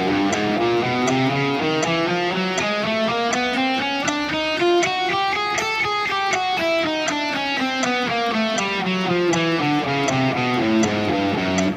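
Electric guitar picking a chromatic exercise with a triplet feel, a continuous stream of evenly spaced notes climbing and then descending in pitch, steady and moderately loud with no talking.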